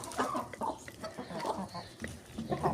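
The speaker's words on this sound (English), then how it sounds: "It's a chicken." Chickens clucking close by in a short series of choppy, uneven calls that rise and fall, with a faint voice now and then and some background rustle.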